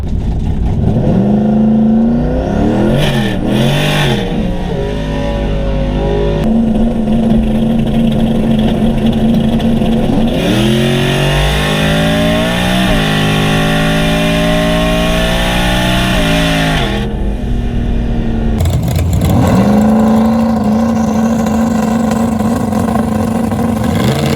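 A turbocharged 2018 Ford Mustang with a TH400 transmission, loud and close on a drag strip test pass, with long stretches of roaring revs, rising engine pitch during acceleration and dips between bursts.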